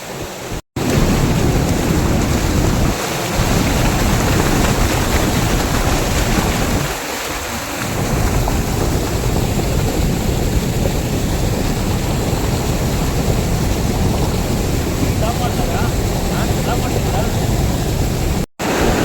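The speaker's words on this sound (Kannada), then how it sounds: "ಡ್ಯಾಮ್ ನೀರು ತುಂಬಿ ನೀರು ಹೋಗ್ತಾ ಇದೆ" A loud, steady roar of water rushing over the overflowing Vani Vilas Sagar dam fills the whole stretch, broadband and unbroken, with faint voices briefly surfacing underneath.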